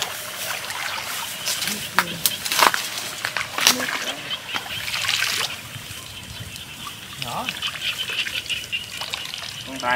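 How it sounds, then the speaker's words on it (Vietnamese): Water being let into a container to fill it while catching eels, a splashy irregular trickle and gush with sharp bursts, nearby, with voices talking over it at times. "Xả nước vô vậy."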